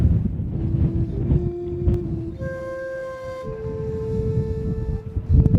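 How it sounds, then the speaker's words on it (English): Strong wind of around 40 mph roars across the summit slopes of the Mount Etna volcano in Sicily, buffeting the microphone in loud gusts, with a faint steady tone running underneath and no talking. "40-mile-an-hour winds, we're surviving."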